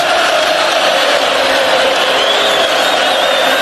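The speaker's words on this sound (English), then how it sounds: "Comes the loudest tomahawk chop of the night as the Noles partisan crowd tries to make it tougher on this offense" Florida State Seminoles home crowd at a college football game against LSU, a dense, loud stadium roar of fans doing the tomahawk chop chant, continuous and unbroken throughout.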